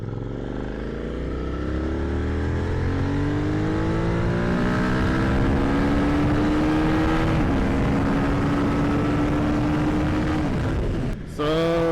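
A Suzuki SV650 motorcycle engine runs steadily close by, its revs climbing smoothly with a rising tone over several seconds before a brief drop and a sharp blip near the end.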